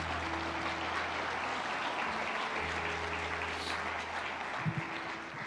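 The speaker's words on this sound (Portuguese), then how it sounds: "aplauda o Senhor Jesus novamente." A church congregation applauds in a steady, even wash of clapping heard from a distance, with a low hum running underneath.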